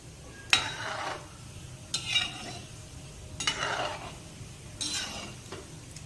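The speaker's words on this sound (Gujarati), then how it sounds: "આ વડાને આપણે મીડિયમ તાપે જ તળવાના છે." Sabudana vada fry in hot oil over a medium flame, a soft steady sizzle broken by four loud bursts of bubbling as the fritters are turned.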